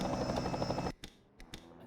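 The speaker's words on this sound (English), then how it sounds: "the helicopter view has the helicopter noise" A helicopter's rotor thumps and whines heavily from the TV-view camera in a racing video game, then cuts off abruptly to near silence broken by a few brief noisy bursts.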